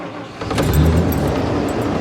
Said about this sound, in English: we'll fire it up and let it run for a minute